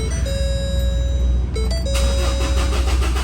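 A Ford Ranger pickup under repair is started with the clutch pressed. Steady electronic dashboard tones play first, then a loud burst of cranking and engine noise takes over, close by.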